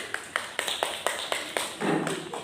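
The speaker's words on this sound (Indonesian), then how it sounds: "Tepuk tangan semuanya untuk Susi." Students in a classroom clap together in a rhythmic pattern of about eight sharp, synchronized claps, close and distinct, ending in a brief scattered burst of clapping.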